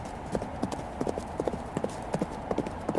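A single horse's hooves beat in a steady, rhythmic clip-clop at a brisk pace, moderately close over a low background hum.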